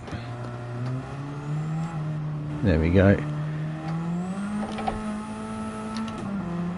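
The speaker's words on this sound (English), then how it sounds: "The car sounds good as well" A race car engine in the video game Gran Turismo 7 drones steadily with rising and falling pitch through gear changes, a brief sharp rev in the middle, and someone speaking briefly over it.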